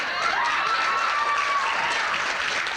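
Steady applause and crowd cheering from a hockey team at a banquet, dense, even clapping that fills the room without a break.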